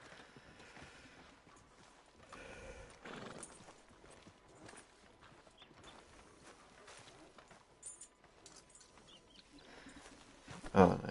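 Horse hooves clip-clopping with a whinny in the western game Red Dead Redemption 2, set on a town street; soft, scattered hoofbeats under ambient noise, with a sharper, louder burst near the end.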